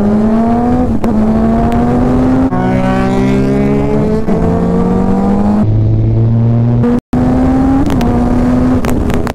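A Suzuki GSX-R sport motorcycle engine running on a road while being ridden, with a loud steady drone, repeated rises and dips in pitch through gear changes, and one abrupt brief cutout.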